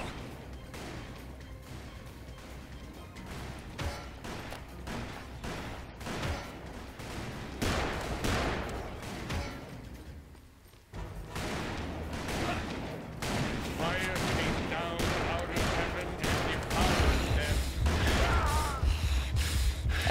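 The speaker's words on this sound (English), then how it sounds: "I think the Vulcan guns are actually really powerful" Vulcan gun fire in the Call of Juarez video game comes as rapid rattling bursts of shots, loud and close, building to a heavier sustained barrage in the second half.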